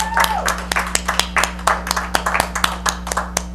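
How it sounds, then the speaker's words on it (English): Scattered handclaps from a small audience at the El Monte Tonight Show, a dozen or so sharp distinct claps in loose rhythm, fairly close, over a steady low electrical hum. "A round of applause, please."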